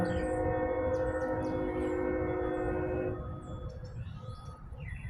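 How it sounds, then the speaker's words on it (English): A passing train sounds a long, loud, sustained horn for about three seconds, then the chord cuts off and leaves a rumbling rolling hum with faint birdsong above. "y'all hear that train?"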